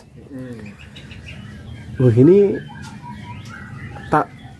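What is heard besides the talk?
kacer panda magpie-robin bird calling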